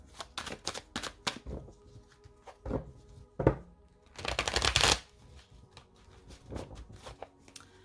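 Tarot cards shuffled and then laid out on a table: quick papery riffles and slaps in uneven bursts, with one longer flurry near the middle, close up and without speech.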